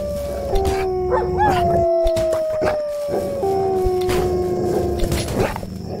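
Dogs in a fantasy video game howl loudly in long, drawn-out, sliding tones, one howl following another across several seconds, with scattered rustling and clatter beneath.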